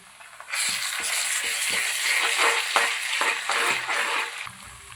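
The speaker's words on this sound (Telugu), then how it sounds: "ఆనియన్ పేస్ట్ కొంచెం బ్రౌన్ వచ్చే వరకు వేయించుకోవాలి" Onion paste for a fish curry fries in a pan, a steady broadband sizzle starting after a brief quiet moment, with scraping stirs and short spatula knocks breaking through; close, loud and free of talk.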